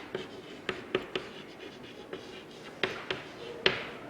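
Pen or marker strokes during a maths lesson make quiet scratches and a series of sharp taps over a faint room hiss, with no talking.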